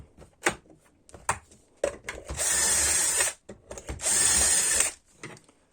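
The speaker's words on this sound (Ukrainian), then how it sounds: "Зараз зроблю ще тут отвор." A drill bores a hole in a furniture panel on a shelf-pin jig, with two loud bursts of about a second each between clicks and handling knocks, close by.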